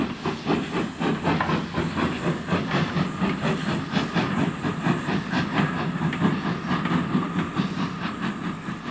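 LNER A3 Pacific steam locomotive working the North British line near Carlisle in 1961, its rhythmic exhaust beats chuffing steadily with hissing steam and rolling train noise, close and loud throughout without speech.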